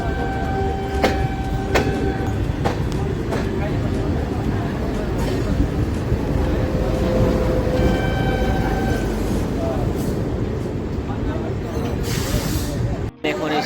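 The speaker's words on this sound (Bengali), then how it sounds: "ভদ্রক স্টেশন থেকে ট্রেন এগিয়ে চলেছে তার পরবর্তী গন্তব্যের উদ্দেশ্যে" The Coromandel Express moving on rails after leaving Bhadrak station, a continuous loud rumble and hiss of the running train with rhythmic wheel clatter throughout, briefly cutting out near the end.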